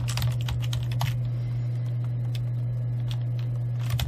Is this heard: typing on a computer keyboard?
yes